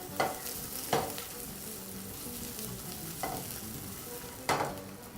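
Sausages frying over high heat, a low steady sizzle with four distinct scraping stirs against the pan spaced irregularly through it.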